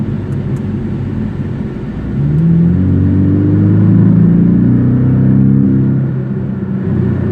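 A deep, rumbling Porsche 718 Cayman S exhaust burbles steadily while not revving, swelling into a louder throaty growl midway before easing back, close and without any talking.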